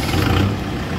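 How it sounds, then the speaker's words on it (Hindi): A Kubota MU 4501 4WD 2023 model tractor engine runs with a steady low diesel rumble, close and continuous for a brief moment with no talk. "ये देखिए काफ़ी शानदार ज़बरदस्त आवाज़ है भाई ट्रैक्टर की"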